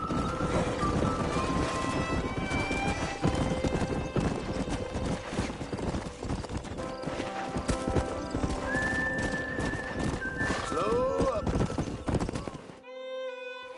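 Video game horses, including a stallion, clop along with rapid hoofbeats throughout, a horse whinnies loudly partway through, and wind and other game ambience run beneath.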